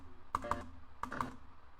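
Keys on a computer keyboard are pressed in two quick pairs of light plastic clicks, near and quiet in a calm room with no talk.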